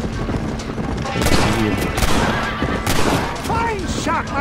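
Gunfire rings out in a Red Dead Redemption Western shootout, several sharp shots scattered across a few seconds amid loud action and shouting voices.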